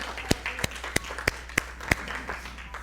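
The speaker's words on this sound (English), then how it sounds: "Let's give him a round of applause." A small audience at a Sunday gathering claps for a volunteer helper, with about six sharp, evenly spaced claps standing out over a soft, sparse patter and quiet room murmur.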